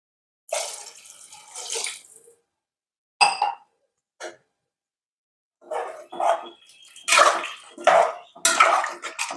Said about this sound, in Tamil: அதனால் 3 டம்ளர் தண்ணி சேர்த்திக்கலாம்.